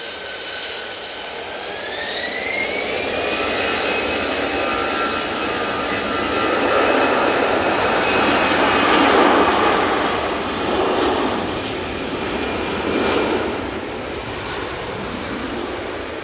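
A Boeing Dreamliner jet at Manchester Airport, its loud engine roar building and holding for many seconds with a rising whine early on, then slowly easing as it passes, with no voices.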